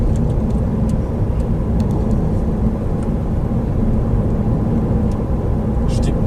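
Steady road and engine drone inside a Toyota Auris hybrid while driving as the petrol engine takes over, a constant loud cabin hum with faint ticks, and someone speaking over it.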